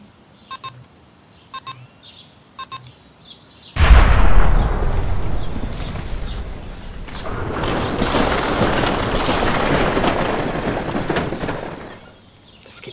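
Demolition blast in Spreng Simulator: after three short electronic beeps, a single loud explosion booms and then trails into a long, rumbling roar of collapsing debris that slowly fades.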